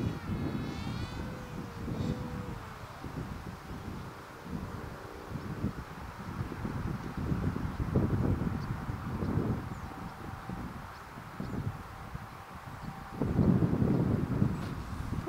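Wind gusts at an outdoor field during a radio-controlled jet flight roar and buffet the microphone in uneven surges, with a faint whine of the small jet in the background and no speech.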